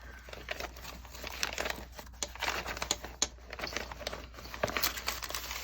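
A folder of paper scraps for a glue book journal is handled up close, with irregular crinkling, rustling and soft tapping and shuffling sounds at moderate volume.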